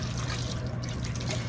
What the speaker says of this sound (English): When I add water to my African nightcrawler bins